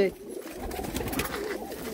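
Pigeons of a large breed coo in a steady low murmur, close and continuous, with softer bird sounds mixed in.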